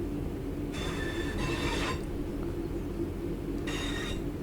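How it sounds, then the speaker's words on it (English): In Train Sim World 4, on the Piccadilly to Hadfield route at low speed, metal wheels screech against the rails in two bursts over a steady rumble of the rolling train, with no talking. "Just so you can all hear the screeching of the rails."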